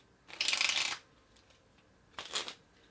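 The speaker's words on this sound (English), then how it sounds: "They just hear the cards being shuffled, so it sounds fair." Two bursts of crisp, fluttering card shuffling, the first longer and louder, the second brief, with quiet pauses around them.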